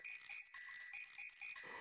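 A frog character in Super Mario RPG croaks in a steady series of short, evenly spaced tones, close and clear, with a brief burst of game chime at the end.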